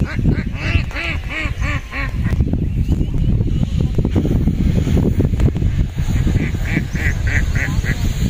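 Ducks quack repeatedly nearby in a rural farmyard, a series of loud, nasal calls in quick bursts at the start and again near the end, over a windy, rumbling background.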